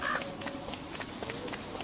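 A bird caws a few short, faint times in the video game Don't Starve, set against a quiet ambient background.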